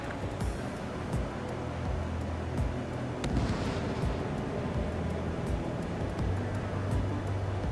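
Weapons fire in the jet combat video game Ace Combat 7, heard as a dense rumbling roar with repeated sharp cracks and bursts over a constant low engine drone.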